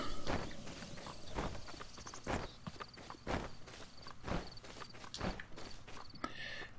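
In a video game, a horse clops along at a walking pace with steady, fairly close hoofbeats over a soft ambient bed of background noise.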